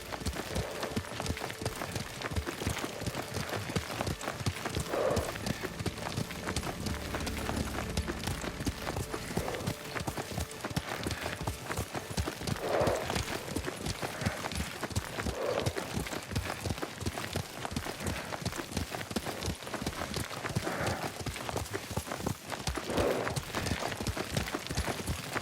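Horse hooves clip-clop in a steady rhythm as a rider travels in the video game Ghost of Tsushima, continuous and moderately soft, with faint game ambience underneath.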